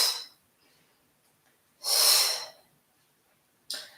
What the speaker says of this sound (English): Pavanmuktasana, a nice little cleansing breath